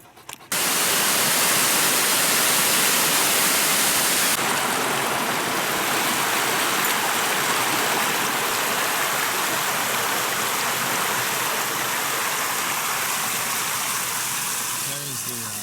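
A stream flows beside a forest hiking trail, a steady, dense rush of water that holds at the same loud level for the whole stretch, close by, with no other sounds standing out.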